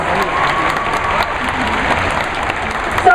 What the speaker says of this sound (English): let's give Bailey a big round of applause.